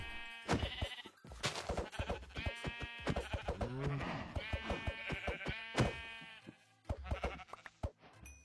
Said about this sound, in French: Les moutons!